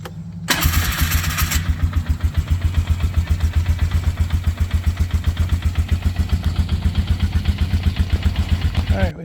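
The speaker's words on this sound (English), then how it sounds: "just fire it up and run" A 2003 Polaris Sportsman 500 HO ATV engine cranks briefly, catches, and settles into a close, steady single-cylinder idle with a fast rhythmic thumping chug.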